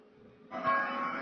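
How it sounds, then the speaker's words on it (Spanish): A church bell strikes once to announce mass, and its rich ringing tone holds and lingers. "se escucharon las campanadas que anunciaron la misa"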